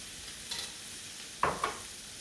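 Garlic and green onions sizzle faintly in a pan over medium-low heat, with a soft, steady crackle and a few brief clinks and scrapes of stirring.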